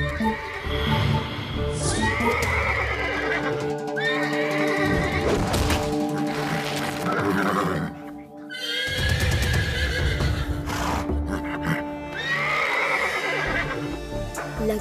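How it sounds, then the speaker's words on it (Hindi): A wild horse in a forest neighs and whinnies loudly and repeatedly, with clattering hoof and crash-like thuds mixed in, full and close throughout. "लगता है कोई जंगली घोड़ा मुसीबत में है"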